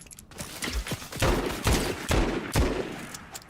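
Video game gunfire comes as a run of loud, punchy shots, close and spaced about half a second apart, each with a short boomy tail, and no voices.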